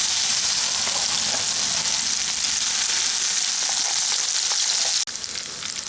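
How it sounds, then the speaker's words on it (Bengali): Soybean paste sizzles loudly and steadily in hot mustard oil tempered with nigella seeds, a dense, continuous frying hiss that drops slightly in level near the end, with no voices. "তেলের মধ্যে ফোড়ন দিলাম 1/4 চা চামচ মতো কালো জিরে। ফোড়নটা কয়েক সেকেন্ড ভাজার পরে এর মধ্যে আমি এই সয়াবিন পেস্টটা দিয়ে দিলাম।"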